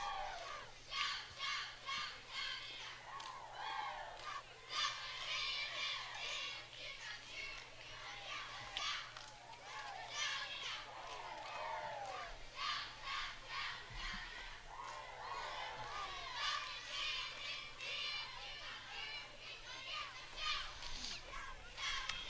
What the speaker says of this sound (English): Decent crowd tonight coming out to the Fairview Middle School football game.